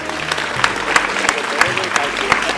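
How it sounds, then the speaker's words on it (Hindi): Schoolchildren at a Teachers' Day event clap to welcome a guest onto the stage, a rhythmic, fairly steady burst of applause from a crowd, moderately loud with some voices mixed in. "कृपया एक बार सभी बच्चे जोरदार तालियों से सर का स्वागत करें।"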